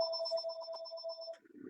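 Electronic ring of an old landline phone continues close and fairly loud for over a second, then cuts off as faint background noise from the lecture room takes over.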